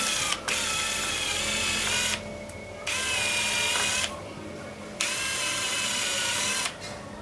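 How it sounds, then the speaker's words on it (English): A power drill whirs in three long bursts separated by short pauses, drilling out holes from starter holes while installing an exterior roller shade, steady and close, with no one speaking. "Drill these out because I've already got the starter hole."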